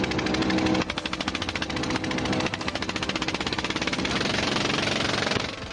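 Chinese fishing boat engine running loud and steady at sea, a rapid pulsing diesel-like chug with a slight shift in tone partway through, no voices.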